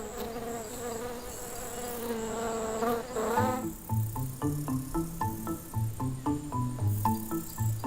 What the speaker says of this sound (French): on trouve 3 fois plus d'abeilles et de cirfes sur une bande fleurie installée en bord de rue